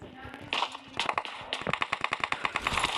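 Gunfire in an online battle-royale shooter game, a fast run of short, rapid shots in quick succession, fairly close and loud, mixed with a busy game soundscape.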